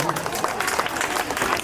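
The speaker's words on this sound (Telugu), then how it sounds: "ఇంకోసారి క్లాప్స్ కొట్టండి మన పిల్లల కోసం." Audience clapping for children at a Christmas celebration event, a dense burst of applause from a crowd mixed with murmuring voices throughout.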